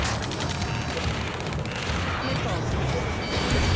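Gunfire and explosions in the aerial combat video game Ace Combat 7: Skies Unknown, a steady, dense barrage of shots and booming blasts that continues for several seconds, with voices calling out over the din.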